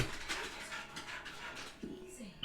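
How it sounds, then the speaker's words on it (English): Excited dog panting rapidly with a few high whimpers, a soft, slightly distant rhythmic breathing under faint background talk. "my dog is going buck mad in the background because he thinks my woman's come down with a treat"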